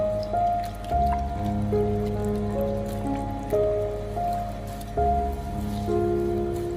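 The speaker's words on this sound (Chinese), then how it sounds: "再把金针菇清洗干净，洗去上面的杂质和脏东西。" Enoki mushrooms are rinsed under running water, giving a steady close splashing and trickling with dripping and squishing as the clusters are handled. No one speaks.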